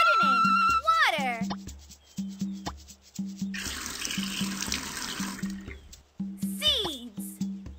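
Water gushes for about two seconds in the middle of an animated children's gardening scene, a steady, fairly loud splashing pour, with cartoon music and sound effects before and after it.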